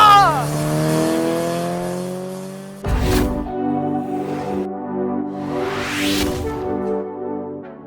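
A high-revving car engine from the Initial D lineup climbs toward 9,000 RPM, loud and close, with rising and falling pitch sweeps and sharp bursts of revving, then a brief drop.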